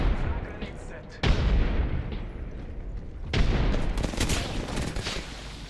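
A battle in the video game Apex Legends brings dense gunfire with heavy booming blasts that suggest grenades, two sharp loud bursts standing out over continuous crackling shots, with voice lines spoken underneath.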